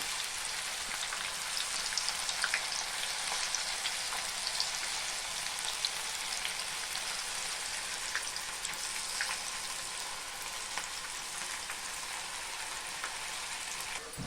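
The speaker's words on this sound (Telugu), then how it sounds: "నూనె కాగుంటే చాలా ఫాస్ట్గా ఫ్రై అవుతాయి" Raw banana pieces fry in hot oil, a faint, continuous fine crackle and sizzle like light rain, steady from start to finish with scattered tiny pops and no voices.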